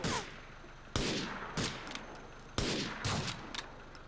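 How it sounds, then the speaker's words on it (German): Enemy gunfire in Grand Theft Auto IV comes as loud, sharp bursts of shots at irregular intervals, each one cracking hard and then trailing off into an echoing tail. "da kommen schon die ersten Schüsse von denen"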